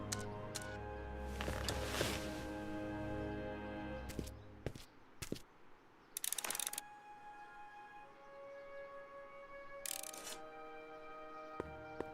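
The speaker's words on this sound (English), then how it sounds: "Guess I better crank up the old chronometric analyzer once more." A chronometric analyzer machine in the Back to the Future video game cranks up with clicks, whirring bursts and sustained electronic tones, coming in short, loud bursts separated by steady humming.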